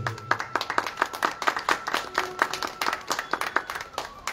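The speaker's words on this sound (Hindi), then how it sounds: "थोड़ी सी ताली बजाएं तो मुझे लगे आप लोग बैठे हैं।" An audience at a Hindi spiritual talk claps in a steady, fairly quick rhythm, many hands striking together at moderate loudness with faint crowd murmur underneath.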